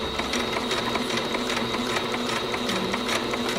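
A sewing machine runs a short back stitch over jelly tape on a shirt, giving a steady, rapid mechanical whir and needle clatter close by, with no talking.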